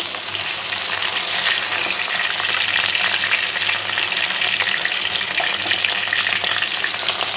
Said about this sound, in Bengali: খুব সুন্দর হচ্ছে ভাজাটা বড় বড় মাছের টুকরা তো হালকা হালকা ভালো ভাজাবো